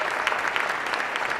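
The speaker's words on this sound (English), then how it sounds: "Let's give him a huge round of applause" Steady, dense applause from an audience at the opening ceremony of a new STEAM school in Syracuse, New York, a continuous wash of many hands clapping at even loudness with no clear talk over it.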